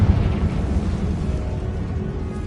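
A Confringo fire spell explosion in Hogwarts Legacy, a deep rumbling blast that opens with a heavy thump and rolls on as a dense, low roar for a few seconds, loud and close with no talk.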